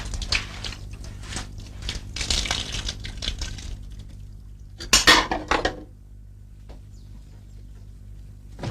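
Dishes clatter and clink loudly in busy bursts, with a sharp crash of crockery midway before things quiet down.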